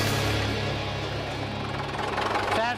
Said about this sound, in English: which has kept the engine ticking over